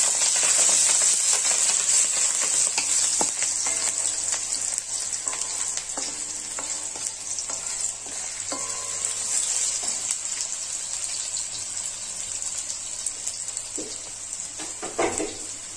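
Ingredients for paneer butter masala sizzle steadily in a hot pan with salt added, a loud continuous fry with occasional stirring scrapes, no talk.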